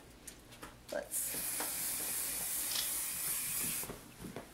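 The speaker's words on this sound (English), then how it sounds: "I'm going to spray the Paul Mitchell Hot Off the Press" Paul Mitchell Hot Off the Press hairspray hisses onto hair in one steady, sustained spray lasting about three seconds, close and fairly soft, with a few small handling sounds before and after.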